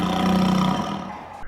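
A tiger roar from a sound library, one of the layers of a T-Rex roar: a single short, loud growling roar that fades out quickly.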